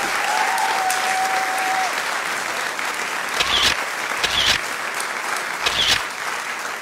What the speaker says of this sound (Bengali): ওনার জন্য বেসন ফাটা হাততালি।